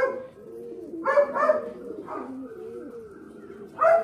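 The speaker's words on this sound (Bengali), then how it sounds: "এটা আন্ধ্রা পায়রা।" Andhra breed tournament pigeons at a home loft give a few close cooing calls in short bursts, with a quieter low murmur between them.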